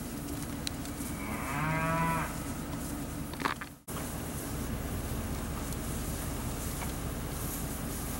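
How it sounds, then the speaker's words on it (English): Angus and semi-Angus sired heifers, about 700 pounds each, at a cattle auction give one loud drawn-out moo near the start, followed by steady background noise with a brief clatter. "Angus and semi-Angus sired heifers."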